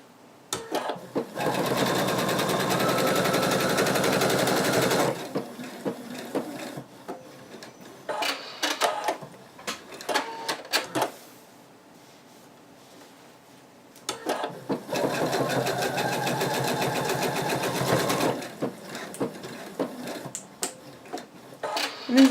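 A sewing machine stitches fleece for a betta fish plush in two long steady bursts of about four seconds each, close and loud, separated by quieter handling and fabric rustle.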